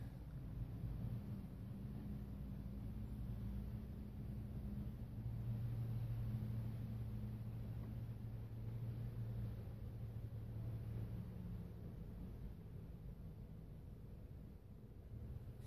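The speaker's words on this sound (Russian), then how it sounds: "вот идет вторая машина на завес" A truck rolls onto a weighbridge at a watermelon weighing station, a steady low engine rumble and drone that holds for the whole stretch, with no talk.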